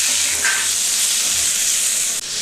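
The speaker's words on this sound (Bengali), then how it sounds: "মশলাটা ভালো করে কষে নিচ্ছি। অল্প একটু চিনি দিয়ে দিলাম। মশলার থেকে সাইডে সাইডে তেল ছাড়ছে।" Spice paste with a little sugar sizzling and frying in hot oil for Bengali steamed egg curry, a steady close hiss of cooking with no talk.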